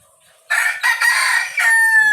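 A bulik rooster crows once, loud and close, a harsh multi-part call of about a second and a half, rising and then trailing off after brief quiet.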